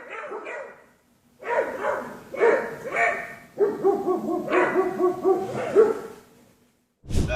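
A dog chasing a departing police car gives a string of high, strained barks and yelps in bursts, loud and close, with brief pauses and a sharp noise at the end.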